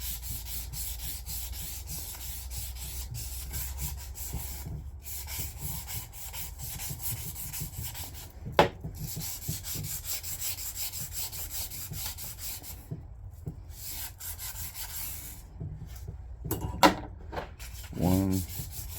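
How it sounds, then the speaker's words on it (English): Sandpaper buffs corroded metal parts of a 2 meter/70cm dipole antenna, giving close, quiet, continuous rubbing and scratching strokes with brief pauses and a few sharper knocks. "We're just going to take a piece of sandpaper and kind of give them a little bit of a buff."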